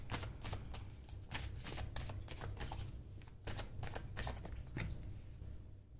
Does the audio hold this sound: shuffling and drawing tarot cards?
yes